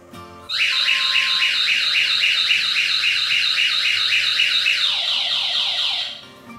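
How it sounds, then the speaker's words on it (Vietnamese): A wireless door-sensor anti-theft alarm shrieks in a loud, fast, repeating electronic warble that runs for about five seconds, drops in pitch near the end, then stops, close and alone. "khi có người mở cửa ra, thì bộ cảm biến sẽ kích tín hiệu báo động"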